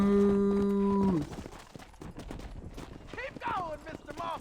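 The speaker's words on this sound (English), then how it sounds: "Moo." A cattle herd in Red Dead Redemption 2: one long, low, sustained moo opens, then it gives way to clopping hooves, shuffling movement and voices talking.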